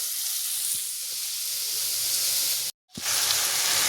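Shredded parotta goes into a pan with softened onion and tomato for egg kothu parotta. A steady close hiss of frying runs throughout, with a brief cut to silence near the end before the sizzle returns.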